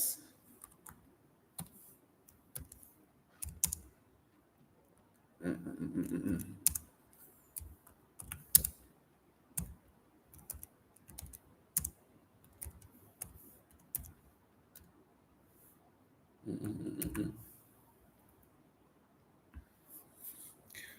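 Scattered clicks of typing on a computer keyboard during a live Igbo speaking drill, with irregular soft key taps and short bursts of quicker typing over about twenty seconds of otherwise quiet room.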